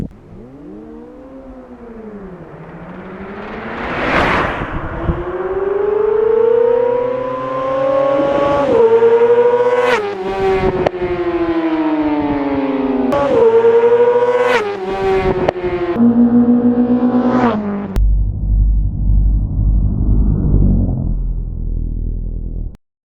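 A Yamaha R6 and a Suzuki GSX-R 600 race, one high-revving engine screaming up through the gears with sharp shift breaks, loud and close, then dropping to a lower rumble as the bikes ease off.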